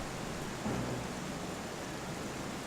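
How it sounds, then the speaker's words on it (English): Rain falling with thunder rumbling in The Legend of Zelda: Twilight Princess HD during a dragon boss fight, a steady hiss of rain with a brief low thunder swell early on. "rain falls and thunder claps and lightning strikes"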